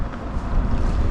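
Steady wind gusts buffet the microphone on open water during winter kayak fishing for sheepshead, a continuous loud rushing roar with low rumble throughout.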